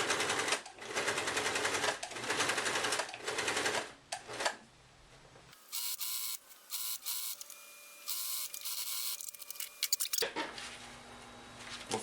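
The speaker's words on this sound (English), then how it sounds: "Okay, I have my fur back in my machine. Presser foot's down." A sewing machine stitches fur for a Krampus fur suit in bursts of rapid mechanical whirring, stopping and starting, with a quieter stretch of lighter clicks midway.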